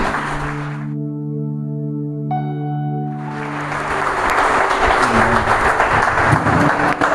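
Congregation applauding in a Baptist church: a held keyboard chord rings out, then a dense wash of clapping rises and continues loudly to the end.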